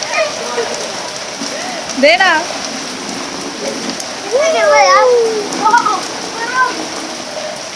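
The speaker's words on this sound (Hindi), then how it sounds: "बारिश ही बारिश।" Heavy rain mixed with falling hail outdoors in a village, a dense steady patter, with a voice speaking over it at moments.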